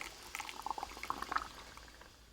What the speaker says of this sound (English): with a ladle, you're just going to take that over to your pears